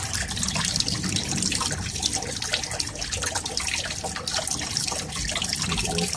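Water flowing in a siphon test, a continuous loud rushing and gurgling of agitated water with air being drawn in, close and steady throughout.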